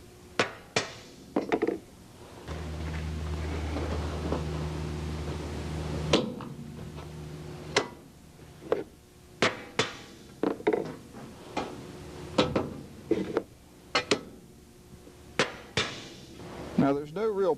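Pre-punched aluminum skin for a Van's RV-6 empennage being dimpled, a run of sharp metallic taps and clanks at an uneven pace over a steady hum, close by, with someone talking at times between the strikes.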